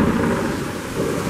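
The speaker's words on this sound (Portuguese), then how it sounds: "Trovão." Thunder rumbles through a heavy rainstorm, with a dense, steady roar of rain and deep low rolling energy filling the whole short stretch at fairly loud level.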